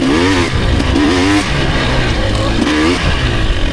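A dirt bike with an FMF Gnarly exhaust pipe pulls hard in third gear on Michigan single track, its loud, raspy engine note revving up and easing off in repeated surges, close by the rider.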